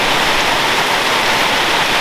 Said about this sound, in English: Another good quality tropical thunderstorm.